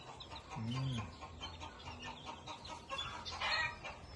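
White Kelso chickens clucking softly, with one clear low cluck or call early on and scattered quieter clucks and chatter around it, fairly faint.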